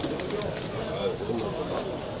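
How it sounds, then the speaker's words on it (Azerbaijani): Masazir pigeons cooing at the Sabunchu bird market, soft low coos blending into a steady crowd murmur with background voices throughout. "Masazır göyərçinləri."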